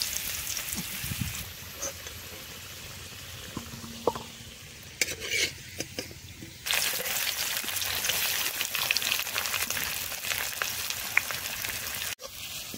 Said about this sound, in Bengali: আলুটাও এখন ভেজে নেওয়া হচ্ছে।